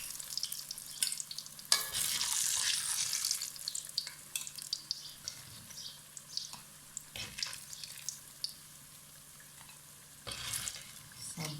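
Arbi and potato patties frying in oil: a soft continuous sizzle and crackle with intermittent scraping and stirring clatter from a utensil, fairly quiet and close, with no talk.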